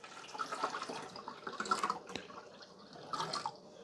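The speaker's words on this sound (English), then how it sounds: "You're going to pour your water up here." Water poured into the top reservoir of a Brita UltraMax 18-cup filter dispenser, a steady splashing trickle with drips and a brief sharp knock, running alone at moderate volume.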